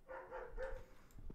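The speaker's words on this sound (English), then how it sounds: "My dogs are barking in the back." Several dogs bark in a short burst in the background, somewhat distant, against a muffled room, with no speech over them.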